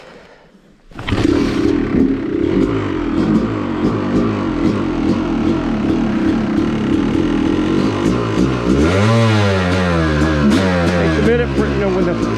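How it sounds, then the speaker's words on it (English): A dirt bike engine catches after a short quiet start, then runs loudly and close with a rough, steady idle and a rising rev near the end. "Got to turn the fuel on, or the bike's not going to start."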